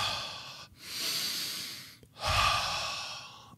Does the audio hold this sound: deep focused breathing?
yes